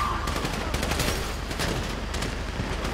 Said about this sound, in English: So I guess we shooting our way out of here!